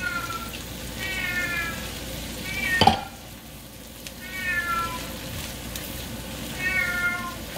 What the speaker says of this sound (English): He's a Bengal cat. He talks a lot.